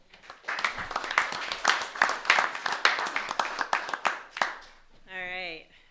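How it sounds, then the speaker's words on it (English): Audience applause at a city council meeting in Waterville, Ohio: a dense, steady burst of many hands clapping for about five seconds, fading out, followed by a brief tonal sound. "let's have another round of applause for you."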